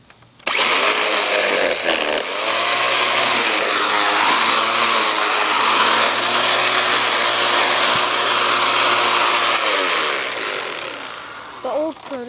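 Homemade mini mower built from a Black & Decker tool cutting through tall grass, a loud steady motorized whine and buzz that runs nearly unbroken for about ten seconds before easing off.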